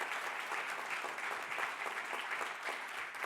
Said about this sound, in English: Can we just give a round of applause for the team that put this together?